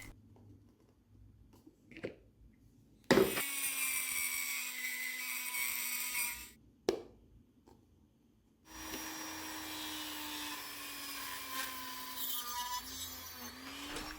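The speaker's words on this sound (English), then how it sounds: "I found it using my Dremel tool as a mini lathe" A Dremel rotary tool run as a mini lathe whines in two bursts of high-pitched spinning, several seconds each, separated by quiet gaps and sharp clicks, close and fairly loud.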